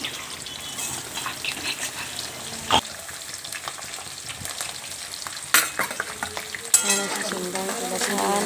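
Mustard and cumin seeds crackle and sizzle in hot oil in a pan, a steady frying hiss with a few louder pops and spatters, close and clear with no talk.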